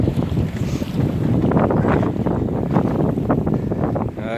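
Strong wind gusting hard around a small sailboat at sea off the Kerry coast, a loud, continuous roar of rushing air and microphone buffeting mixed with splashing water against the hull, with no talk.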